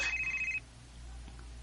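A cellphone rings with an incoming call, a short, faint electronic tone that stops after about half a second and is followed by quiet room noise.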